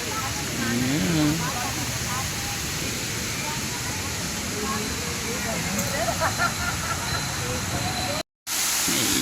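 Tumalog Falls waterfall pouring down in a steady, broadband rush that fills the scene, with a voice speaking over the water and a brief dropout near the end.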